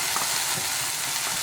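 Tomato paste being stirred into a frying fish curry, a close, continuous hissing sizzle from the pan.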